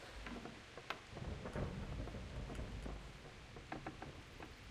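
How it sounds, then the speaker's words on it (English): Steady rain hisses throughout in the video game Kingdom Come: Deliverance while low thunder rumbles underneath, with a few sharp cracks and drips standing out. "Oh, it's raining."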